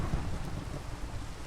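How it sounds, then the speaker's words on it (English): A Minecraft thunderstorm brings a steady, dense wash of heavy rain with a low rumbling undertone, loud and continuous throughout. "And there's another thunderstorm."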